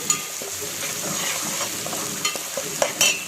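Onions cooking in oil with ginger garlic paste for gongura prawn curry, a soft continuous sizzle broken by spoon stirs and a few sharper scrapes near the end, close by.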